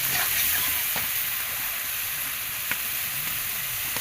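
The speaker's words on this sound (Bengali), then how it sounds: "এখন আমরা কপিগুলো, বাঁধাকপি কুচিগুলো দিয়ে দেবো।" Shredded cabbage tossed into a hot frying pan with lightly fried small sea shrimp, giving a steady loud sizzle with stirring scrapes and a few clinks, no talking.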